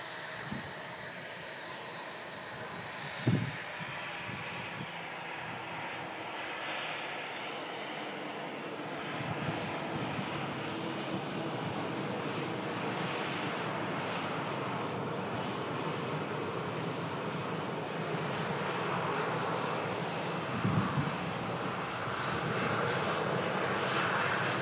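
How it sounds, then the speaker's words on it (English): Jet airliners departing an airport during plane spotting, a long, steady engine roar that swells gradually and holds at moderate distance, with a couple of brief thumps along the way and no talking. "Just get this flurry of aircraft out"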